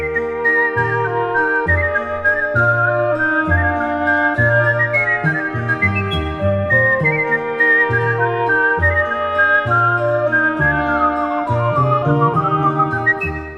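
A man whistles Carnival of Venice, a bright, agile melody with quick runs and ornaments over a steady accompaniment of bass and chordal backing from an ensemble.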